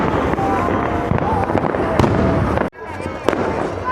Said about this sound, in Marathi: खूप फटाके उडवतात.